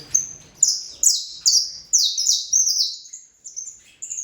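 A saffron finch sings a bright, rapid series of high chirping phrases, close and clear, repeating every half second with brief pauses.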